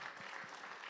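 An audience claps to welcome a guest, a brief, fairly faint burst of steady applause.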